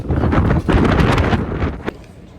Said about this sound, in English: this wind is worse than the Maid of the Mist